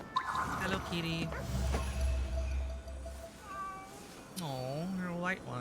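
A white cat meows in the Ghostwire: Tokyo video game, several short, bending cries coming close and clear over a soft ambient bed, the last calls drawn out and wavering.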